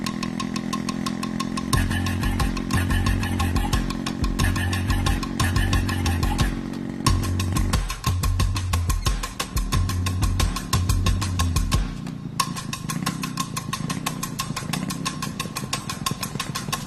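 A faulty motorcycle engine runs in a steady mechanical drone with a repeating low pulsing throb, close and continuous throughout.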